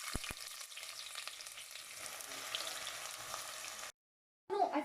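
Onion frying in hot oil and ghee for a chicken biryani, a steady crackling sizzle with a couple of sharp clicks at the start, ending in a brief silence and a short clatter.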